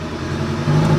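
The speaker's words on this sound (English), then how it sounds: "Engine management light on, and yeah, it's definitely got a misfire." An Audi TT engine with a misfire idles close by, its steady low rumble loud and slightly uneven, with no one talking.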